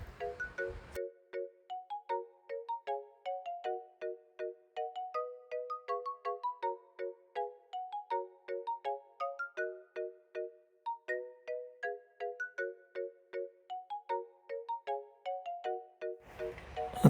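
A melodic phone ringtone plays while a call is placed during a delivery drop-off in Japan, a clear repeating chiming tune looping steadily for about fifteen seconds, alone without talk.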